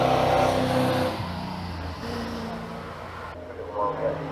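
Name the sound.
Land Rover high capacity pickup accelerating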